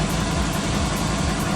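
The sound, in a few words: gas generator engine running on gas from waste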